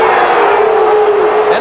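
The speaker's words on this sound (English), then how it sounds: "there's a controversial call, and you can hear the reaction of the crowd" A stadium crowd at a 1984 USFL football game between the Houston Gamblers and Denver Gold roars loudly and steadily in reaction to a disputed call, a dense continuous wash of voices with a rising tone near the end.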